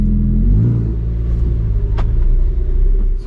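A Lamborghini Huracan EVO Spyder's V10 pulls away with the roof open, a deep close rumble rising as it accelerates, with a short higher note near the end.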